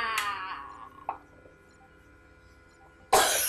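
A single cough from a Call of Duty player early on, followed by a quiet stretch and then a sudden loud burst of noise near the end.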